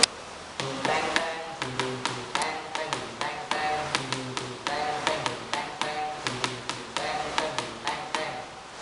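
Hand-struck hadroh frame drums playing the basic stroke pattern, a steady repeating rhythm of sharp slaps and deeper thumps, close and moderately loud.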